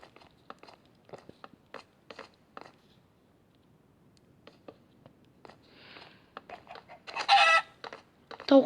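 A chicken in a Minecraft-style block game gives short, repeated clucks spaced through a quiet stretch, ending in a louder burst of squawking and other sharp game sounds.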